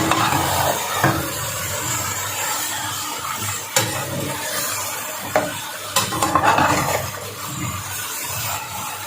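Taro root and eggplant fry in a pan with onion and tomato and no added water, giving a steady sizzle broken by scraping stir strokes and occasional knocks of the spoon against the pan, close and continuous.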